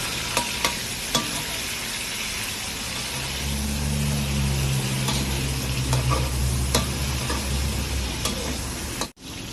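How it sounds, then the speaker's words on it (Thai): Shrimp fried rice being stir-fried in a pan, a dense continuous sizzle with clinking stirring strokes and a deeper rumble of frying partway through, close and fairly loud, ending in an abrupt scrape. "ใส่กุ้งนะครับ แ ล้วก็ คนกันให้เข้ากันนะครับ"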